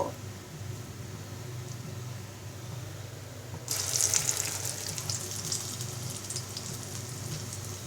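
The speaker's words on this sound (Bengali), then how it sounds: "এভাবেই একটা একটা করে বড়া আমি ভেজে নিব" Red amaranth leaf fritters fry in hot soybean oil in a frying pan; a faint steady hiss jumps to a louder, crackling sizzle partway through as another fritter is added, then keeps bubbling close by.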